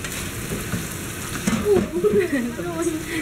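Carrots, Baguio beans and other vegetables spattering and sizzling in a hot frying pan, a close crackling hiss that grows busier partway through.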